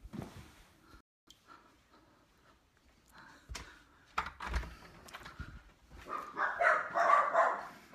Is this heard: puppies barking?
yes